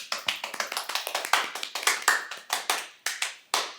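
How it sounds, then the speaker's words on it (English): A small group applauds with sparse, uneven claps in short bursts that start and stop, a few people clapping up close with no talk over it. "Big round of applause to us."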